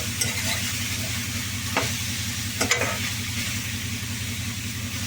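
Drumstick curry with steamed drumstick pieces is stirred in a pan, giving a steady close sizzle with a few scraping strokes of the spoon and a low rumble underneath.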